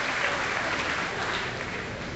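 Steady applause from a crowd at a Barack Obama rally in Spencer, Iowa, a dense, even wash of clapping throughout.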